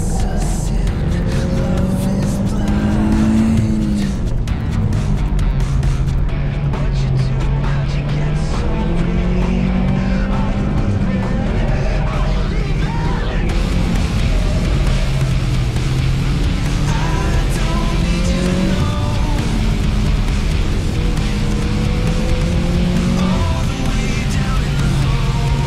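A race car is pushed hard on a circuit at the Ukrainian time attack championship, its loud engine climbing and dropping through the gears and holding close and steady for the whole stretch, with no talk.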